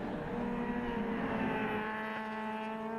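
Race cars, including a Honda Civic and a Honda Integra, running a round at Dubai Autodrome, with a steady, continuous engine drone held at a moderate distance throughout.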